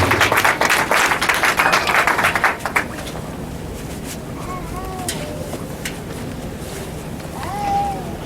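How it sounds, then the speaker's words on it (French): A crowd applauds loudly for a pastor at a funeral gathering, dense clapping for about three seconds, then fading into a noisy room with faint whistles and cheers. "Acclamons très fort, acclamons très fort."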